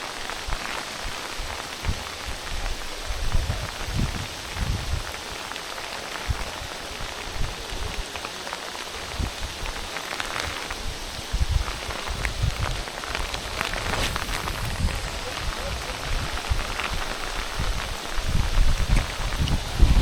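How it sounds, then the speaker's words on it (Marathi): Steady rain falls on the surroundings during a fishing outing, a dense continuous hiss with scattered drops, holding a fairly even level throughout with no voices. "पाऊस काय बंद व्हायचं नाव नाही घेत आहे"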